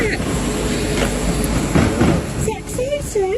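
A passing train rumbling loudly nearby, with steady rail noise and clattering wheels, as people talk over it.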